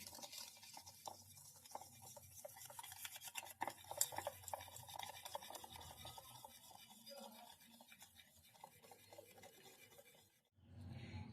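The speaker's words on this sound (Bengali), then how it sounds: "এরপর চিনি আর তেল আমি ভালো করে মিশিয়ে নিচ্ছি" Sugar and oil being mixed by hand in a bowl for an eggless orange cake, a steady scraping, whisking rasp running almost without pause, then a brief stop and a short bump of handling noise at the end.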